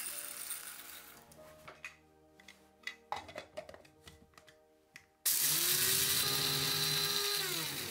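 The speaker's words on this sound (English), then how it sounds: "Grind the roasted rice into powder." Roasted rice being ground into powder for a Thai dipping sauce: a few short, sharp clicks and pulses, then a loud, steady electric grinder whir that runs to the end.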